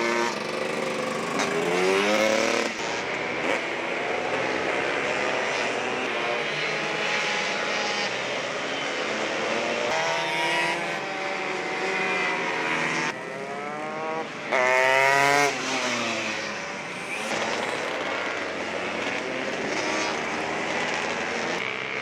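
Hornet racing kart engine at Whilton Mill during an endurance race, running loudly and steadily with a rising and falling whine, stumbling and sputtering briefly partway through before picking up again.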